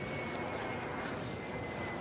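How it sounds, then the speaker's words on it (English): Planes pass over New York City near the Brooklyn Bridge, making a faint, constant drone with a thin steady tone that blends into the hum of the city. "More planes flying overhead."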